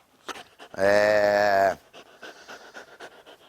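A dog pants in quick breathy bursts, interrupted early on by a long, loud, tonal whine-like sound lasting about a second, with soft voices in the background.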